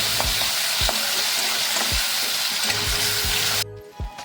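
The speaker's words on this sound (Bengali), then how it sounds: "চিংড়ি মাছটা আমার ভাজা হয়ে গেছে" Shrimp tossed with salt and turmeric fry loudly in oil, a dense, close crackling sizzle with periodic dull spatula knocks before it cuts off abruptly near the end, leaving only a faint clatter.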